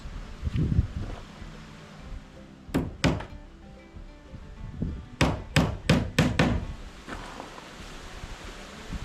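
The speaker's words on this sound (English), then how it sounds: "I'm using just 2-inch common nails for this" Hammer driving 2-inch common nails into 1/4 to 3/8 inch plywood on a motel exterior: a couple of sharp blows, then a rapid run of about six loud strikes, with faint rustling between.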